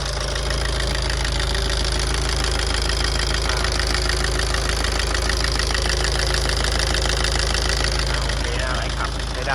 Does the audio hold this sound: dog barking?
no